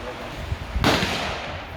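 A single sharp, loud blast from an unsuppressed semi-automatic gun, standing out abruptly against steady background noise and trailing off quickly.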